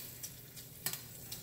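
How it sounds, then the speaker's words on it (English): Sausages browning in a pan for a one-pot paella give off a faint, steady sizzle, with a few soft clicks and stirring taps. "I'm just going to brown the sausages on each side."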